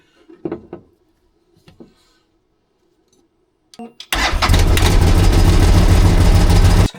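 A CFMoto Uforce 1000XL UTV engine cranks and starts after a few quiet clicks and knocks, then runs loudly and steadily close by for the final three seconds.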